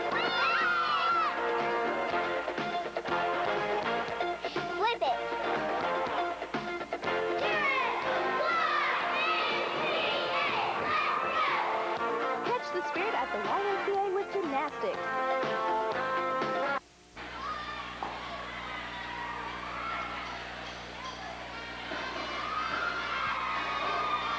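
A crowd leaving Alice Arena after a high school basketball game between the Lincoln Alices and South Knox: a loud, busy murmur of many voices and youthful chatter echoing through the gym, thinning briefly before building again.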